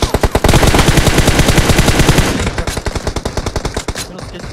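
Rapid automatic gunfire in the mobile battle royale game PUBG Mobile, loud and close. A dense burst of shots gives way to a slower string of single cracks that fade as it ends.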